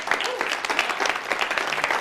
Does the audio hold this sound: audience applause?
yes